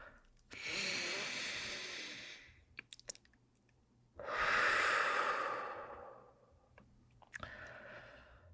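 Slow, deep breaths taken close to the microphone, three long airy inhales and exhales in sequence with a few small clicks between them and no talking.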